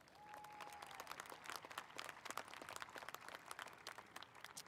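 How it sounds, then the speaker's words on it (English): Audience at a 2021 high school graduation gives a round of applause: a steady crowd of clapping hands, moderately distant and sustained, with a brief whistle-like tone near the start. "Please give them a round of applause."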